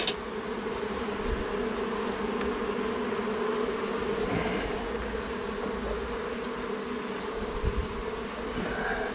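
Honey bees buzzing around an open Flow Hive during an inspection, a dense continuous hum of many insects close by, steady throughout with occasional individual bees passing nearer.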